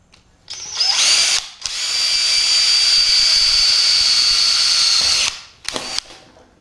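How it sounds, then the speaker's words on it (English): A drill driving a pilot bit into steel tube chassis for a radiator diffuser front end, two loud sustained whining runs, a short burst then a long steady one, with a brief restart at the end. "I'm going to send the pilot bit kind of down into roughly where it needs to be."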